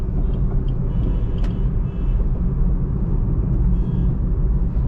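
A Maruti Suzuki WagonR CNG car drives along with a continuous low road and engine rumble heard from inside the cabin, steady and fairly loud with a brief dip midway and no talking.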